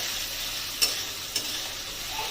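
Kofta curry masala paste with tomato stirred and frying in a pan, a steady close sizzle with two brief scraping clinks of the spoon, no voices.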